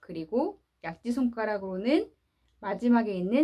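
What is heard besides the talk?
No everyday noises stand out.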